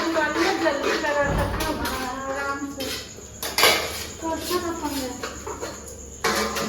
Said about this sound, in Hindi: तो लेवा बर्तन ला मांजा तुमन संगवारी हो मामन हा बर्तन मांजा थे